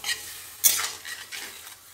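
Mango pieces in water poured into a hot wok for pickle, stirred with a few scraping strokes and a soft sizzle, close and moderately loud, no talking.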